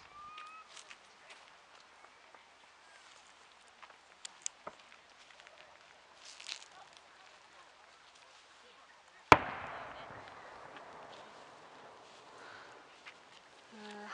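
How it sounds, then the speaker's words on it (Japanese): A single sharp, booming burst from a large shakudama firework shell rings out after quiet crackles and pops, followed by a long rolling echo that fades slowly. "今尺玉"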